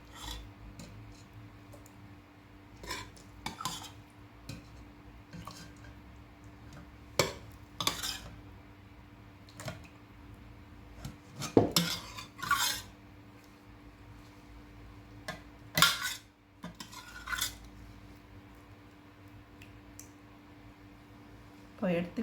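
Ladle scooping thick ragi koozh into a metal vessel, scattered soft clinks and scrapes of metal on metal at close range in a quiet kitchen.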